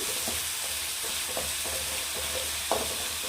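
Chicken frying with masala paste in a pan sizzles softly and steadily, with a few scraping stirs of a spoon and one sharper clink near the end.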